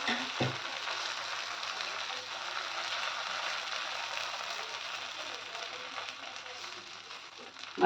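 Chile batter hissing and sizzling steadily as it is spread across a hot tawa, a continuous close crackle with no talk.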